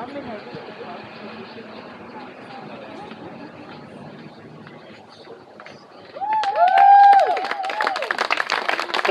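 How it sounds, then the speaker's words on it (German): Applause and clapping break out from a crowd at a hang gliding landing during a Swiss hang gliding association anniversary event, rising loudly after a stretch of talk over an outdoor murmur. "Applaus für die beiden."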